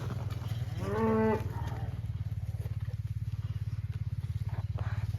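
Cattle moo once, a single drawn-out call near the start, heard close by over a steady low engine-like hum on a cool, brisk evening while the cows drink at a new winter water tank.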